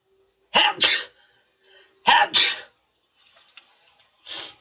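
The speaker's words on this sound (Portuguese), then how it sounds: "Vai espirro" Two sharp sneezes burst out close by, each a quick double explosion of breath, followed by quieter sniffs and a softer exhale.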